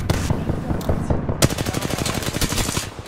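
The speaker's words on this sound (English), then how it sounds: "I'm shooting his feet out from under him." Rapid automatic gunfire in a first-person shooter video game, a loud, steady stream of close shots rattling continuously with no talk over it.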